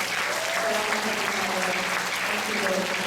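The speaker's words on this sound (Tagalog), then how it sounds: "Ato nang taga-musog na palakpak ang ikorta." Sustained applause from a church congregation during a Sunday service, a dense steady clatter of many hands filling the room, moderately loud and unbroken with faint voices under it.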